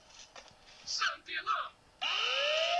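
A voice speaks briefly, then an electronic alarm in the video game Ice Scream 4 kicks in, a loud steady buzzing tone with a rising sweep.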